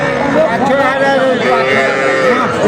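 A cow moos loudly and close by, one long drawn-out call, amid the bustle of a rural cattle market at Kaharol in Dinajpur, with traders talking nearby.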